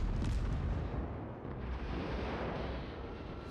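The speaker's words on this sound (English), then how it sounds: "We are taking shots from several ships at this stage." Naval gunfire from several warships in World of Warships booms in a dense, continuous rumble of heavy shots, loud and low with no clear gaps between blasts.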